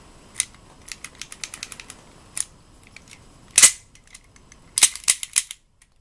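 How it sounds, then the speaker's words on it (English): HG-170 gas blowback airsoft pistol being handled, giving a string of sharp close metallic clicks and snaps as the slide is racked and released, with a louder clack in the middle and a quick cluster of clicks near the end. "this is the HG-170 gas blowback airsoft pistol. Slide action."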